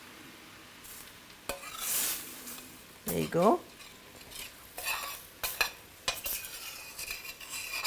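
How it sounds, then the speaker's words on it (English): Dal liquid hits a hot pan to deglaze it, giving bursts of sizzling mixed with spoon stirring and scraping against metal, close and intermittent, with a brief spoken remark. "I'm going to take a little bit of the dal, the liquid from the dal, to deglaze our pan."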